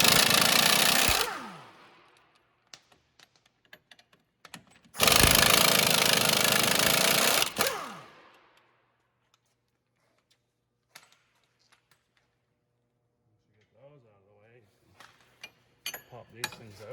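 The 22mm strut-to-knuckle bolts on a 2009 Toyota Corolla come out under two loud, sustained bursts of an impact wrench, each a few seconds long. Quiet clicks and tool handling follow, with a person briefly talking near the end.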